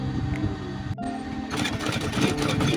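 A sewing machine stitches military-style trousers being re-tailored in a navy style, giving a steady mechanical whirring hum that turns denser and louder partway through, close and continuous.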